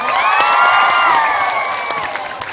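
An audience at the San Gabriel 2nd Miss Gay Universe 2015 pageant cheers loudly: a dense, sustained roar of shrieks and whoops from a close crowd, with scattered claps.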